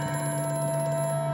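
An old telephone rings in the horror video game Amnesia: A Machine for Pigs, a brief, steady trilling bell with a bright, continuous tone and no talk.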